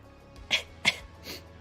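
A person sneezes twice in quick succession at a moderate distance, followed by a softer breathy sound, against a quiet background.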